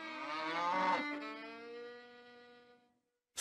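A single cow moo, loud and drawn out with a rich, falling tone, tapering off over about three seconds with nothing else audible.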